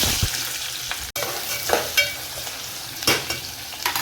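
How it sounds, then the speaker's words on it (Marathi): Onion frying in hot oil for mutton curry, a close crackling sizzle broken by spoon stirs and scrapes, with a sharp click near the one-second mark and bursts of louder frying later. "तर आता कांदा टाकू बघा"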